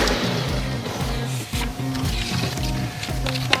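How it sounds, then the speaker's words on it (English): Better Pack 555eS tape machine running as it dispenses a 37-inch length of tape, a steady mechanical whir with rhythmic low pulses and a brief dip partway through, close and continuous. "If I press the 36-inch key, I'm going to get a 37-inch length of tape."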